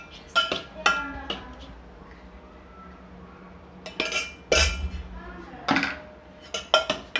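A spoon knocks and clinks against a bowl in uneven bursts while semolina and gram flour batter is mixed, with quieter pauses between the clusters.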